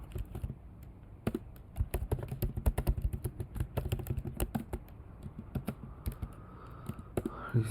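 Fingers tap on a computer keyboard nearby, quick irregular keystrokes in bursts with short pauses, fairly soft and with no voice over them.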